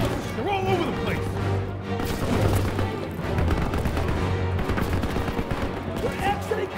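Call of Duty WWII combat with machine gun fire and scattered impacts rattling almost without pause. Soldiers shout and talk over the shooting.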